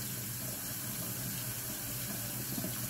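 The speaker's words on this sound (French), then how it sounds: "je mets de l'eau jusqu'à la moitié de mon plat" Water running steadily into a baking dish, a continuous close, even pouring rush with no pauses.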